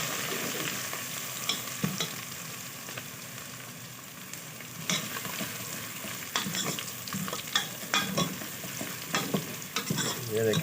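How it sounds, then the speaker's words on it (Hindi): Onions, ginger and garlic paste frying in a pan for desi tinday, a constant sizzle with repeated scraping stirs of a spoon growing busier toward the end, close and alone without talk. "ब्राउन प्याज हो जाए तो आपने अदरक लहसुन का पेस्ट इसमें ऐड कर देना।"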